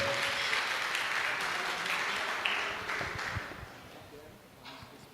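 A church congregation applauds loudly, a full burst of many hands clapping that gradually thins and fades toward the end.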